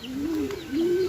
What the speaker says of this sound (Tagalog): Meron na tayong pauwing ibon.